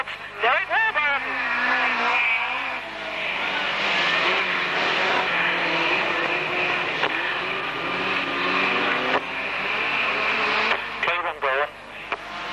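Rear-wheel drive hot rod cars racing at a 1991 Braintree Auto Club meeting, engines revving and roaring past at a distance while a public-address commentator talks over them.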